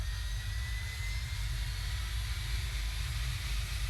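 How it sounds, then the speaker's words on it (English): Engine 1 of a Learjet 45 in Flight Simulator X spools up with a steady, continuous jet whine and broad rushing roar, holding level throughout. "Engine 1 spooling up."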